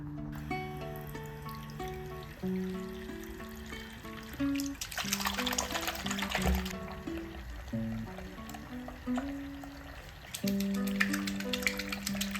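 A red Angry Birds plush toy is washed by hand in water, with trickling and dribbling sounds, gentle sloshing and a louder burst of splashing midway, close to the microphone.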